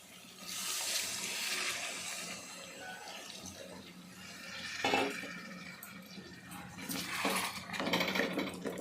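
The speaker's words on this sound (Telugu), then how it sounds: "ఇప్పుడు మనం వాటర్ పోసేసుకుందాం" Water pours from a lota into a pan of chicken and stuffed brinjal curry, a splashing stream that swells and fades in several surges, with no talking.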